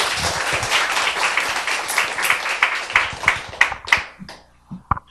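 An audience applauds to welcome a lecturer to the stage, a dense burst of clapping that thins into a few scattered, separate claps and then fades out near the end.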